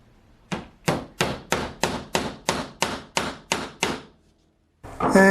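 Hammer strikes drive a nail into wood while building a curved cutting board, ten sharp, evenly spaced blows at a steady rhythm, close and loud, followed by a short pause and a brief louder clatter at the end.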